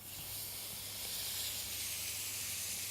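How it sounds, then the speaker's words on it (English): Lamb pieces hitting a hot pan with spices for a spring lamb and apricot couscous, giving a steady, loud broadband sizzle and hiss that holds evenly throughout with no talking. "And now I'm going to add our lamb."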